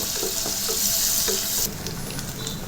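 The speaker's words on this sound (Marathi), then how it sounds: "2 मीडियम आकाराचे कांदे असे बारीक चिरलेले आपल्याला एक सोनेरी रंग येईपर्यंत फ्राय करून घ्यायचे" Two medium onions, finely chopped, fry in oil inside a small pressure cooker, giving a steady, close sizzle with faint stirring scrapes and no talking.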